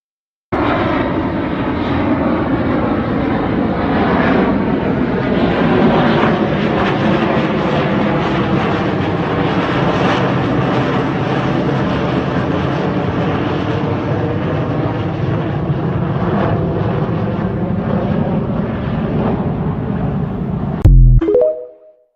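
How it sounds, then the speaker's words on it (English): A B-2 stealth bomber flies over with a steady, loud, broad engine roar that holds for about twenty seconds before cutting off abruptly, with no talk over it. "It's the badass stealth bomber. The B-2."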